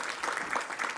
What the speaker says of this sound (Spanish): Un fuerte aplauso también para nuestra jefa